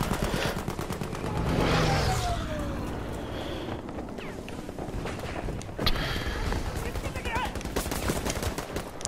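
Dense, continuous gunfire in the Battlefield 5 video game, with rapid automatic bursts and heavier booms filling the whole stretch, loud and close throughout.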